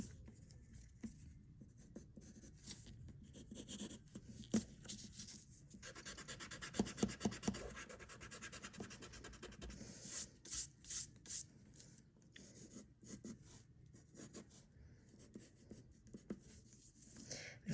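A pencil scratches and rubs across paper while body proportions and shoes are sketched, with soft strokes coming in short bursts and quick repeated scribbles, faint and close with no talking.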